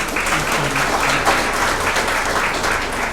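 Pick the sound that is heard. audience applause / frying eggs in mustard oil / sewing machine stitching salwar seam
audience applause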